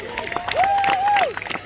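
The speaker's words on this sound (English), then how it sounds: "Give a huge cheer to Benji" Crowd noise at a knights' jousting show at Leeds Castle in Kent, a brief swell of cheering and applause with a loud whistle rising above it, the crowd fairly close.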